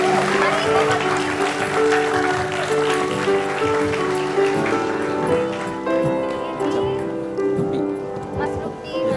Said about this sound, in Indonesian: kita kasih tepuk tangan untuk Luffy dan Sami